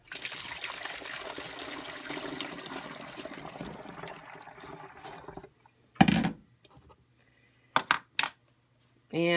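Two cups of water pour for a homemade window cleaner, a steady trickling stream for about five seconds, followed by a few short clinks and splashes.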